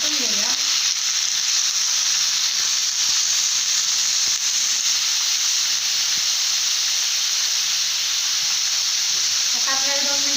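Eggplant pieces sauté in a hot pan with a loud, steady sizzling hiss that holds throughout, and a brief stir or scrape at the start and end.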